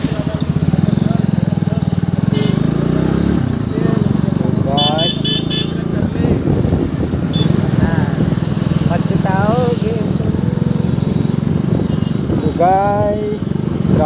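Motorcycle engine drones steadily and loudly throughout a ride through busy traffic, with short horn toots from nearby vehicles and someone talking over the noise.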